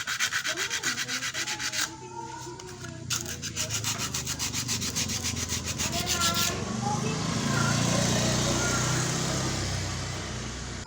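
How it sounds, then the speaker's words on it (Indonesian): Sandpaper rubs in quick rhythmic strokes against the shaft of an older Honda Supra motorcycle's magneto-side engine case, prepared for a new oil seal to cure a leak. The close, scratchy sanding is steady, with a few brief pauses. "Dan kita amplas terlebih dahulu pada bagian asnya"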